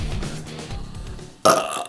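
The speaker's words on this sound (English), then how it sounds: "I need a burp." A loud, sharp burp erupts near the end, short and close, after a stretch of low background murmur.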